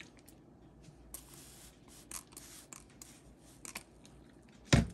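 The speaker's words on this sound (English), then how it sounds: "We'll give it another hose." Short, faint hisses of cleaner spray onto a turntable spindle to strip old grease and oil, arriving in a few soft bursts with a louder click or knock at the end, close and quiet.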